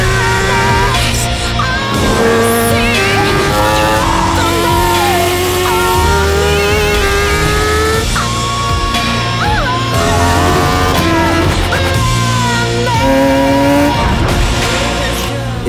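Superbike engines rev hard at high speed, a loud, continuous high-pitched howl with rising and falling pitch sweeps and sharp tyre-like squeals, layered with music throughout.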